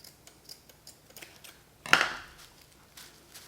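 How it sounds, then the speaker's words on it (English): Scissors snip the top of a yarn craft hat: one sharp, close cut stands out among faint small ticks and handling noises in a quiet room. "just kind of snip the top of the hat"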